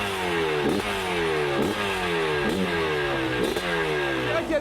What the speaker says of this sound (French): Ça, c'est un vrai bruit de moto.